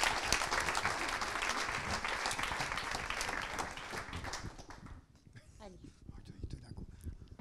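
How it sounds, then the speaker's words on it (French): Audience applause at a health foundation event, sustained clapping from a seated crowd for about five seconds before fading out, followed by scattered claps and a voice speaking. "On peut vraiment les applaudir."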